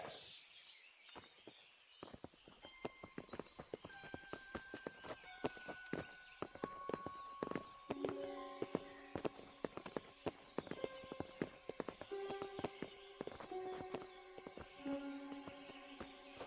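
Horses' hooves clip-clopping on ground in the medieval game Kingdom Come: Deliverance, irregular clustered hoofbeats at moderate distance mixed with bird calls and ambient tones, faint overall.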